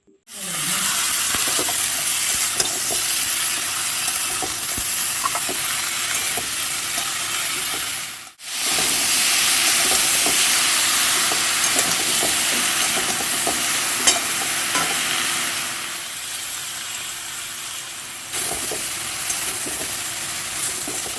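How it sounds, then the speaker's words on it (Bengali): Eggplant pieces sauté in hot oil with onion paste and salt for a winter vegetable dish, with a loud continuous sizzle and stirring scrapes that break off briefly, then resume. "কেটে রাখা বেগুনগুলো এর মধ্যে আমি দিয়ে দিচ্ছি, দিয়ে আবারও একটু কষে নেব।"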